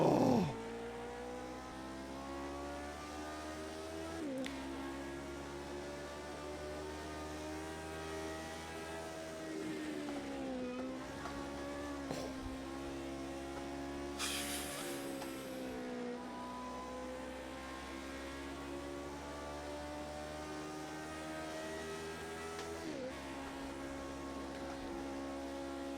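Race car engine in Project Cars 2 revving hard and continuously, pitch sweeping up and down through gear changes over a long stretch, loud and steady with no talking.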